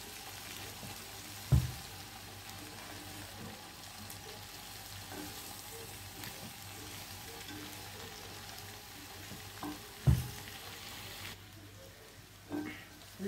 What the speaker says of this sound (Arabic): اقعد اقلب فيها لحد ما تدبل خالص خالص البصل ده.